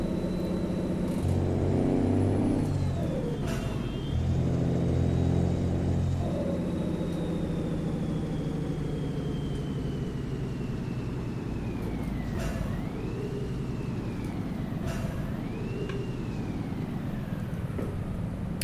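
A truck engine in a driving simulator game with a trailer on a Turkey map hums steadily, a loud continuous rumble with gradual pitch changes as it drives and shifts, no talk over it.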